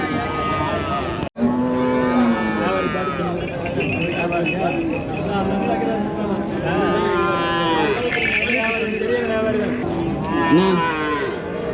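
Cattle at a busy livestock market in Anthiyur low and moo repeatedly, loud and close, with overlapping calls, a sharp clink, and people talking throughout.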